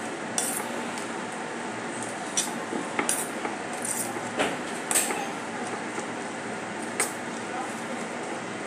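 Chopped capsicum and grated carrot are stirred together in a bowl, giving scattered light clinks and scrapes of a utensil against the dish over a soft background hiss.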